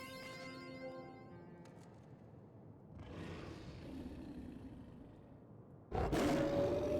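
Fenrir, a giant wolf boss in Final Fantasy XIV, roars in deep, rumbling growls beneath game music, ending in a sudden loud burst of roar and impact noise.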